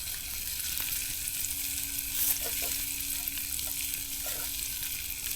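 Steak sizzling on a campfire outdoors, a steady hiss of fat crackling in the pan with faint pops, continuous and moderately close.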